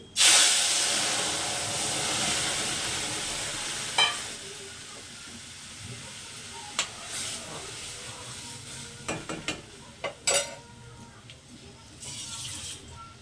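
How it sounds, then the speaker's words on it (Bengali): Boiled mung and masoor dal poured into hot panch phoron tempering gives a loud, bright burst of sizzling that fades into quieter bubbling, with occasional stirring clinks from the pan. "আগে থাকতে যে ডালটা সেদ্ধ করে রেখেছিলাম সেই ডালটাকে এটার মধ্যে দিয়ে দিচ্ছি ফোড়ন দিয়ে দিচ্ছি"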